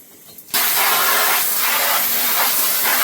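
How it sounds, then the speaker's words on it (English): A handheld filtered shower head's power sprayer nozzle bursts on abruptly after a brief quiet start, then blasts a loud, continuous, close hiss of spraying water. "they have this little nozzle on top, which is a power sprayer"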